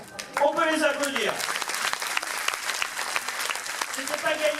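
Audience applause at a dojo gala, a dense continuous patter of clapping that holds steady throughout, with a voice speaking over it at the start and again at the end.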